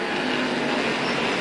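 Sportsman stock cars roar through the final lap of a heat race at Capital Speedway, a dense, loud, continuous engine wash holding steady throughout with no break.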